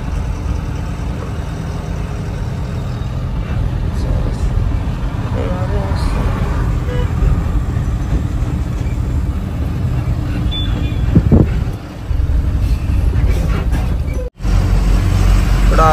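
Steady, loud roadside traffic on a six-lane highway between Hyderabad and Chennai, with cars and trucks passing in a constant engine rumble. Talking runs over it throughout.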